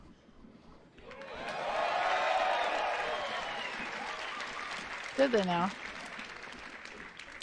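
Crowd applause and cheering fills a large conference hall during Bethesda's E3 press event, swelling to a broad sustained roar, then tapering as someone speaks over it.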